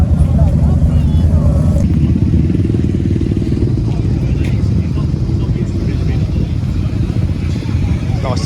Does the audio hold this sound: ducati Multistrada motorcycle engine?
yes